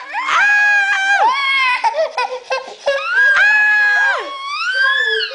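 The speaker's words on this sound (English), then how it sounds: "Or do you want to do your scream?" A young child lets out a loud, sustained high-pitched scream, then bursts into several shorter yelps and giggly shrieks before a second long scream, close to the listener with no other sound around it.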